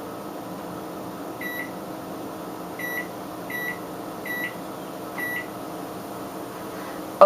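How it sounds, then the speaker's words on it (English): A microwave oven timer being set for seven minutes beeps in five short, evenly spaced electronic tones over a steady background hum, with no talking. "I'm using the microwave timer because I don't have another timer"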